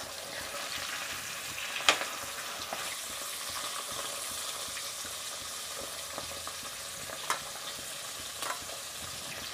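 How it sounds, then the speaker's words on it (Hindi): Fish fries in hot oil in a pan at home, giving a steady, moderate sizzle throughout with a few sharp clinks of a utensil stirring or turning the pieces. "अब हम यही लास्ट डाल रहे हैं मच्छी अब सब रेडी हो गया तल के"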